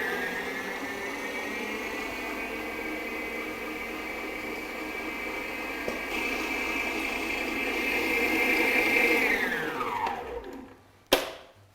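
An electric mixer whirs steadily while beating cupcake batter with oil, a close, even motor drone that rises slightly before winding down and stopping, followed by a brief knock.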